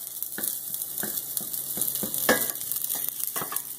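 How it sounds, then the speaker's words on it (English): Garlic sautés with a bright continuous sizzle while a spatula scrapes and stirs it in a pan for shrimp vodka pasta, the strokes repeating every half second or so, close and without talk. "We're gonna add our garlic. Let that saute for a minute."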